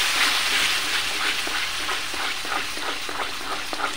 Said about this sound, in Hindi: इसको अच्छे से मिक्स करते हैं।